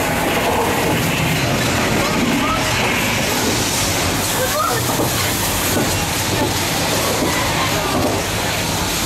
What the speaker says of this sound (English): We got a runaway subway on the left.